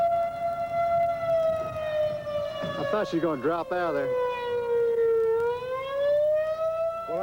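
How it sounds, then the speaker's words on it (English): A civil defense siren on the Great Plains wails as a loud sustained tone that dips and rises in pitch while tornado weather blows in. Voices talk over it in the middle. "our sirens work anyway"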